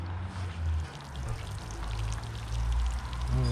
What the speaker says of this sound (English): So we'll give it a thorough water through.